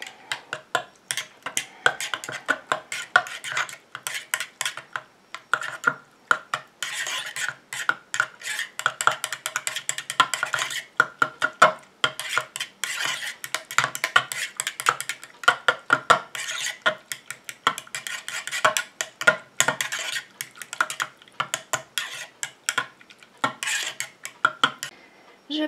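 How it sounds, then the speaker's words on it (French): A utensil stirs a mixture in a container, making quick, irregular clinking and scraping taps that run continuously at close range. "Je mélange."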